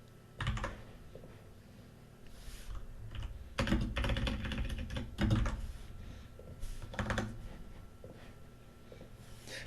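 A computer keyboard clatters in short bursts of fast keystrokes separated by quiet pauses, close and moderately loud, with no talking over it.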